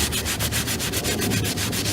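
Steady rhythmic abrasive rubbing of sanding rust off a chrome wheel, repeating quickly and evenly, close up with no voices.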